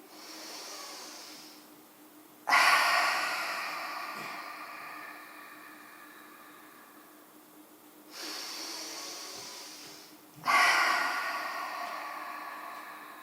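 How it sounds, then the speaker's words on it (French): Slow, deep breaths during a yoga session, each long airy inhale through the nose followed by a long exhale through the mouth, close and alone, in two full cycles. "Donc allez-y, inspirez et expirez."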